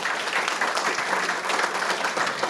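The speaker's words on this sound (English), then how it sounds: "Please give our representatives and our senator a round of applause." Steady audience applause at a legislative panel luncheon, dense and even clapping from a sizeable crowd with no talk over it.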